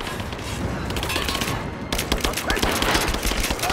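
Dense, rapid gunfire from the Rise of the Tomb Raider video game crackles in overlapping bursts throughout, growing heavier and more sustained in the second half.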